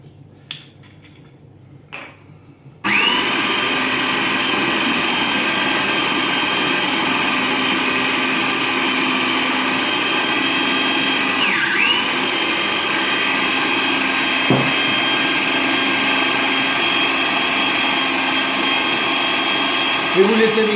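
An electric blender switches on after a few seconds of near silence and mixes tarama ingredients with olive oil, a loud, continuous, high whirring whine that holds steady to the end.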